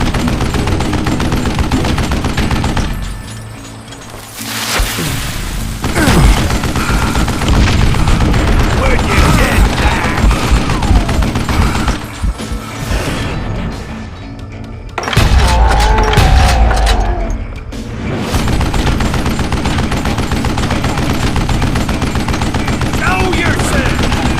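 Gunfire in the western video game Call of Juarez Gunslinger: loud, dense bursts of shots and rapid fire with booming thuds, in long stretches broken by brief lulls.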